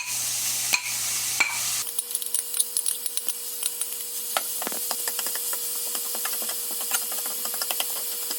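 Seasoned ground beef hits a hot pan with a steady sizzle, then scraping stir strokes and clicks of a utensil repeat against the pan throughout, close and fairly loud with no talking.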